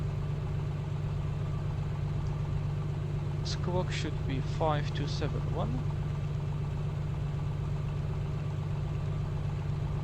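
A small aircraft engine warms up on the ground before an IFR flight from Valdez to Tatitlek, giving a steady, loud low drone throughout. A brief radio-style voice speaks over it midway.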